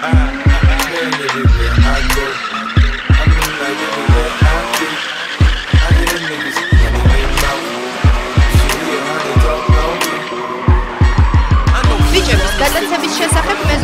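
BMW cars at a drag racing championship in Yerevan, with loud engines revving and tires squealing and skidding in repeated bursts, close up amid crowd noise and voices.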